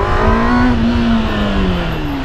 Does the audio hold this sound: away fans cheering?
no